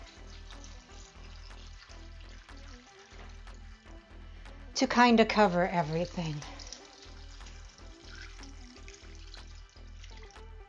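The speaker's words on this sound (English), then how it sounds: "you want to add enough water" Water pours from a tap into a slow cooker holding bean soup for about a second and a half, a loud splashing rush midway through, while someone talks over a low steady hum.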